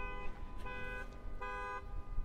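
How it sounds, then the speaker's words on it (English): A car horn sounds in two sustained honks with a pause between, heard from a distance over low outdoor rumble on a street in Costa Teguise. "Someone's beeping over there."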